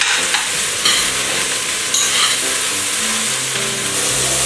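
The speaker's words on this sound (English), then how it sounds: "at this point we're just gonna stir it and wait a little until everything is nice and roasted" Mushrooms sizzle steadily in a hot pan for an Indian curry while a utensil stirs and scrapes through them, a continuous close frying hiss with soft clattering strokes and no talk.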